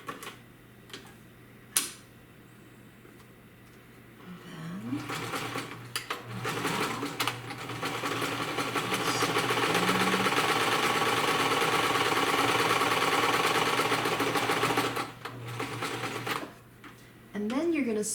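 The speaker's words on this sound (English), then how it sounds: "sew all the way to the other casing." A sewing machine stitches a fabric face mask, starting with a few isolated clicks, then running in a fast steady whir for about ten seconds before stopping and briefly restarting, close and loud.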